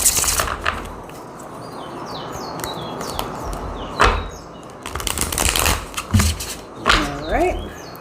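A deck of tarot cards being shuffled during a reading, heard as several short bursts of riffling and card slaps close by, interspersed with a person talking.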